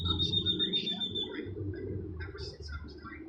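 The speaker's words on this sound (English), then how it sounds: "Oh, that bird is loud." Out in downtown Las Vegas, a bird calls in repeated cooing, squawking notes over low city rumble, near and fairly prominent.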